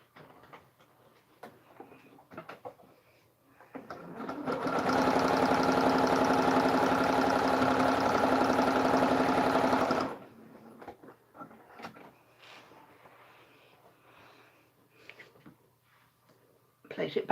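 A sewing machine stitches a quarter-inch seam in a foundation paper pieced daffodil block, a steady whirring run of about five seconds between quiet stretches of soft handling and talk.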